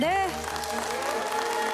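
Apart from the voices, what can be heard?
audience applause for debate students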